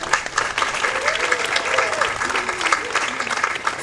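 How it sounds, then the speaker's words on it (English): Audience at a pageant crowning applauds steadily for a few seconds, a dense even clatter of many hands with a voice talking over it. "Can we give one more round of applause for these lovely ladies?"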